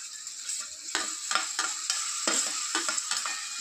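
Chopped onion, tomato, garlic and coriander sizzle in butter for pav bhaji while being stirred, giving a steady hiss broken by several sharp scraping strokes of the spoon, close and without talk.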